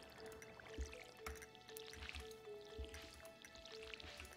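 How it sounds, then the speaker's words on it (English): Soft, quiet dripping and trickling as a watering can pours onto crops in Stardew Valley, with small splashes recurring in a gentle, uneven rhythm under a faint musical background. "Gotta water the plants."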